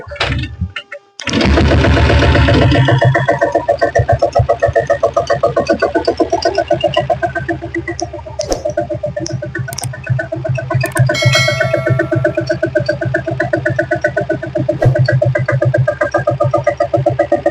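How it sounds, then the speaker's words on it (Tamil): A 1997 diesel Bullet motorcycle engine cranks and catches after a brief pause, then settles into a loud, rapid, rattling diesel idle that runs steadily. "இப்போ வண்டி ஸ்டார்ட் பண்ணி காட்டுற பாருங்க."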